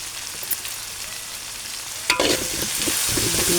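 Home-ground pepper, cumin and garam masala sauté in oil for a squid curry, giving a crackling sizzle that swells sharply halfway through, with a spoon scraping and stirring against the pan.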